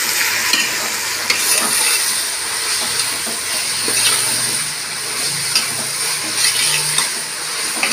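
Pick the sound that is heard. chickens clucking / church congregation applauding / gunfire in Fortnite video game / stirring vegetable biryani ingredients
stirring vegetable biryani ingredients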